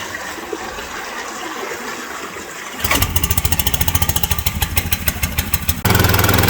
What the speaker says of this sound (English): we've got the dredge working now. It's just warming up.